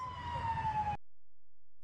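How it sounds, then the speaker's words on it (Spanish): An ambulance's wailing siren sounds for about a second as it passes, then cuts out abruptly into near silence. "La ambulancia al parecer estaba ocupada y sigue de largo."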